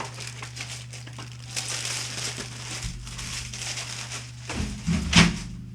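Plastic parts from a Hong ZSU-23-4M/MZ Shilka scale model kit tumble and crinkle as they are moved across a table, a close continuous rustle that swells into a louder clatter near the end.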